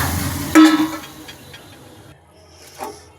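Fried potatoes are tipped into a boiling meat curry with a brief, loud splashing clatter. A soft bubbling hiss follows and fades, with a small stir near the end.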